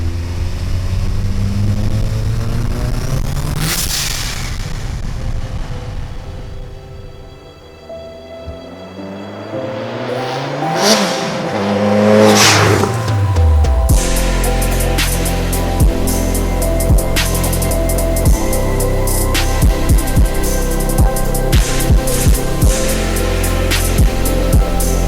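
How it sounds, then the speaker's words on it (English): A Dodge SRT-4 car is heard out on neighborhood streets. Its engine swells and falls through sweeping changes in pitch, then settles into a loud, steady drone close by. "We're just driving the car around the neighborhood right now."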